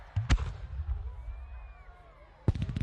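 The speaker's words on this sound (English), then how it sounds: "The fireworks." Fireworks bursting on New Year's, seen from high up. Two deep booms open the clip, a quieter stretch follows with a faint whistling rise, then another burst of explosions comes at the end.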